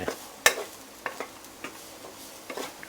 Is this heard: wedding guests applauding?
no